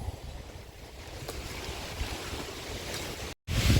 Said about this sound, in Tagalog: Lakas ng hangin ano?